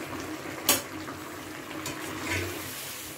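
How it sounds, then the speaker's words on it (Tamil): A pot of mango pachadi simmering on the stove, giving a steady, soft bubbling hiss with a few brief louder pops, fairly quiet and close. "ஓகே, நல்லா கொதிக்க ஆரம்பிச்சிருச்சு."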